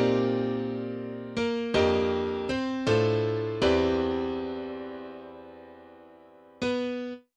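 Synthesized color bass chords in a jazz progression play in 5/4, several bright sustained chord stabs with short transitional hits between them, decaying slowly, alone and with no talking.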